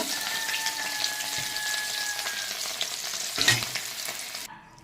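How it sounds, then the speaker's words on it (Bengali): Fish frying in oil in a pan, a continuous close crackling sizzle with a brief stirring scrape near the end before the sound drops away. "মাছটা আমার ভাজা হয়ে গেছে।"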